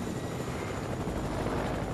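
Helicopter in the video game Fortnite, a steady rotor and engine drone with a dense, continuous throb holding at an even loudness throughout.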